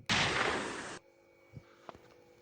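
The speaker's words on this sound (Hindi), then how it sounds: "नकली इंस्पेक्टर चीता के रिवॉल्वर ने उगले शोले" A single loud, sharp revolver blast with a long, noisy burst fading out, followed by a couple of faint clicks.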